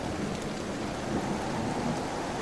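Rain falling in a desert level of the game Sonic.exe The Destiny: a steady, close hiss of rainfall with a low rumbling undertone, unbroken and free of speech.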